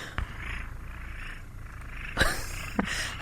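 A person imitates a cat's purr with a throaty, gargling rattle, heard as a steady low buzz with a couple of brief louder bursts, fairly close and without speech.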